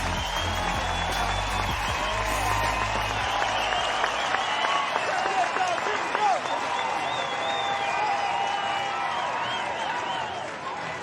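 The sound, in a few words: baseball crowd cheering and applauding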